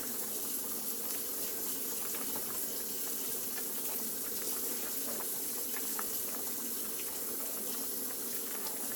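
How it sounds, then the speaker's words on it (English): Noodles bubbling in a pot of boiling water on a home stove, a constant faint hiss with fine popping bubbles and no voices. "Cooking the noodles"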